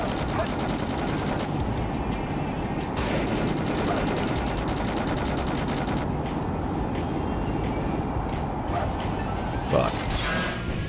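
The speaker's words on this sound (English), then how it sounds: "just wait for the missile barrage to finish before I can hit it" Missile barrage from a boss in Sonic Adventure 2, a steady roar of rapid explosive bursts that runs the whole way through, with a voice speaking over it.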